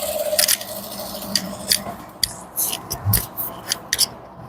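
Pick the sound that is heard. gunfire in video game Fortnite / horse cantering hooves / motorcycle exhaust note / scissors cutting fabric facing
scissors cutting fabric facing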